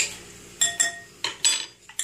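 A metal utensil stirs pot pie filling in a dish, producing several sharp clinks and scrapes in irregular bursts, close and fairly quiet with no talk.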